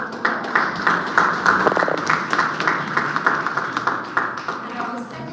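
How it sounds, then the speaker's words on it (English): An audience at a medical college event in Mauritius claps in a round of applause, a fairly close patter of many hands rising and falling in bursts throughout. "Please, a round of applause"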